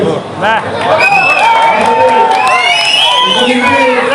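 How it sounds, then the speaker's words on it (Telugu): A large crowd of party supporters gathered to congratulate a newly elected legislator in Kanigiri, loud overlapping shouts, whoops and cheering voices close by, forming a dense, sustained roar with some clapping. "చప్పట్లో"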